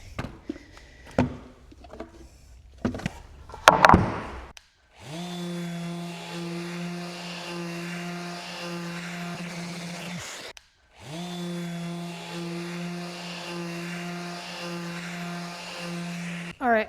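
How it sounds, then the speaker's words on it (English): A power sander whirs steadily on wood in two long runs split by a brief pause, preceded by a few scattered knocks and clatters. "Now I just need to do some sanding."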